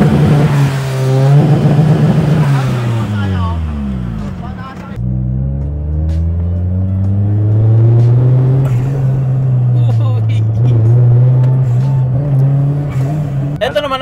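A Toyota Corolla with a 299 hp 3SGTE engine and full exhaust revs hard, its pitch climbing, dropping sharply, then rising again into a steady, loud, close drone.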